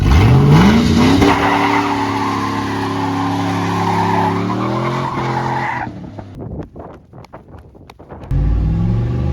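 A V8 five-speed Silverado pickup revs hard, then its tires chirp and squeal loudly through a rising engine note before a brief lull and a renewed roar; no talk.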